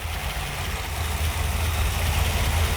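A Ford Thunderbird Y-block V8 idles steadily during solid lifter break-in, a deep, even, throbbing rumble close by with a slight rise in loudness toward the end.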